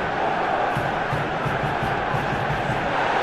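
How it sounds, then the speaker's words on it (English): Football stadium crowd at a Europa League match reacting to a piece of defending, a dense, steady roar of many voices from all around with no single shout standing out. "Well, the crowd clearly like what they just saw."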